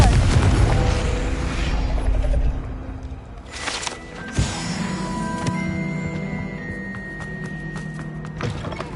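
A Confringo spell blast in Hogwarts Legacy: a deep booming burst with a sharp impact thud, followed by a lingering magical hum and tonal shimmer as the explosion fades.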